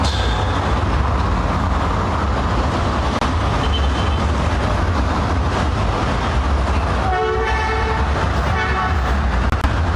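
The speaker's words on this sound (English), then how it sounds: "And here are the horns of buses." Bus horns toot in morning traffic near a busy roundabout in Grenada, with several short blasts late in the stretch over a steady loud rumble of passing engines.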